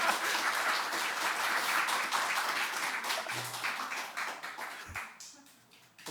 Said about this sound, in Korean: 보통 이렇게 박수를 쳐야 이게 노래.